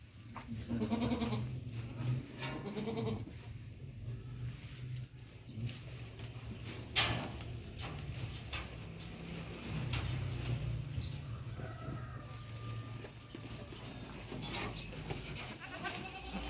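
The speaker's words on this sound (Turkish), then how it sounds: "Bunlar keçilerimizin yavruları." Young Saanen and Maltese goat kids bleat in a series of faint, scattered calls against a low steady background, with brief bird chirps and occasional rustling.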